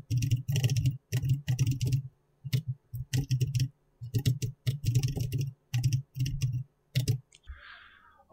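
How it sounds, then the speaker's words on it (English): Computer mouse clicks sound crisply and close in quick clusters while hyperlinks are tested on a computer, separated by brief silences, with a faint soft rustle at the end. "when I click on the link"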